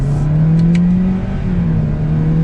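The engine of a 2021 Toyota Corolla Hatchback Special Edition revs steadily under acceleration, a close, continuous drone that holds its pitch throughout.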